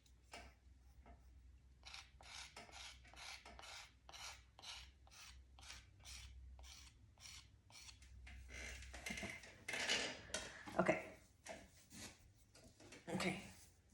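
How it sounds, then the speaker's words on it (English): A tool scrapes an air bubble from a large 17-inch clay platter during trimming, giving a quiet run of short, regular rasping strokes that grow denser and louder toward the end, with a person talking in places. "so I'm just going to scrape it away"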